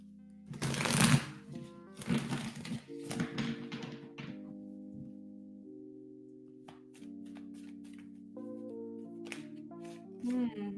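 A tarot card deck is shuffled by hand in two or three brisk riffling bursts at close range, followed by softer taps, while a soft melodic chime plays throughout.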